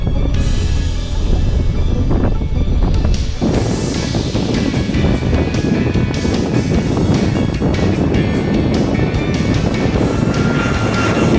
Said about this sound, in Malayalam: നമുക്ക് പോകാനുള്ള ബോയിങ് 757 വിമാനം പുതിയ സഞ്ചാരികളെയും കൊണ്ട് എത്തിയിരിക്കുകയാണ്